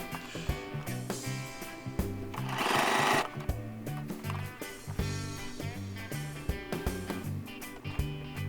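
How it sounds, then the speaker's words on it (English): Sewing machine fitted with a zipper foot stitching denim while upcycling jeans into a dress, its rapid mechanical needle chatter running steadily and close, with a brief denser burst partway through. "making sure you use a zipper foot to make the job a bit easier"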